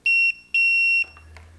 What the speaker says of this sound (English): So anytime I hit continuity, you'll hear it beep.